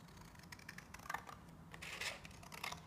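Scissors snip around a traced paper square, giving quiet, irregular crisp clicks and cuts close by, with no talking.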